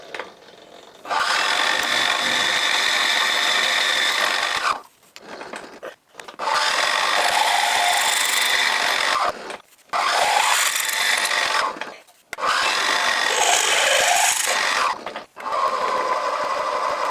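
A drill bores the big end of a steam engine connecting rod, a steady loud whirring that runs in long stretches broken by several brief pauses, close up with no voices.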